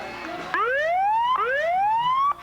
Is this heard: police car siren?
yes